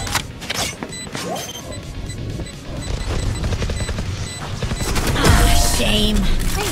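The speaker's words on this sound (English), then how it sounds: "I love explosions." Explosions and gunfire in a Valorant match, with the Raze agent in play, build into a loud, dense barrage of booms and crashes that swells near the end over constant game sound effects.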